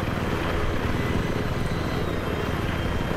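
A helicopter's rotor and engine drone steadily and loudly throughout, a dense continuous roar with no pauses, heard in the Battlefield 3 game on the Kharg Island map.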